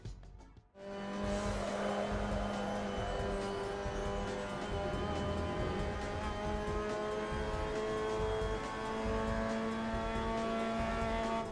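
A Mazda MX-5 Cup race car in Assetto Corsa runs at the Kazan Ring, its engine holding a loud, steady high-revving whine that shifts pitch slightly as it brakes and enters a corner, with no pauses.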